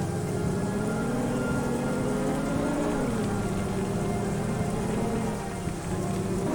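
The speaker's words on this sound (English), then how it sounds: "It's a shame it's raining because we can't see a thing." Steady, dense video game rain hiss fills the scene without pause, a constant wash of drops with a low rumble underneath.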